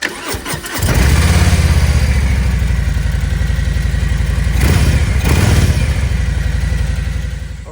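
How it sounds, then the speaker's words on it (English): A Harley-Davidson Milwaukee-Eight 114 on factory exhaust cranks briefly, then fires up from cold and settles into a loud, lumpy V-twin idle with a couple of throttle blips, close by. "Here's a cold startup with factory exhaust."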